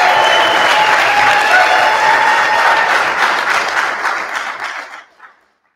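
Theater audience at a talent show finals bursts into loud, dense applause welcoming a performer to the stage, holding strong before tapering off and fading to silence near the end.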